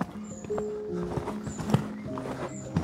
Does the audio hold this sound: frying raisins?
no